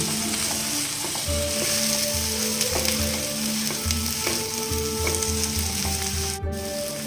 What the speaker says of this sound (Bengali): এবার আমি একটু নাড়া দিচ্ছি।